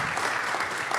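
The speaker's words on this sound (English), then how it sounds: "let's take a second to give Eric Ries a round of applause" Audience applause fills a brief moment at a live talk with Eric Ries, a dense, even patter of many hands clapping at once.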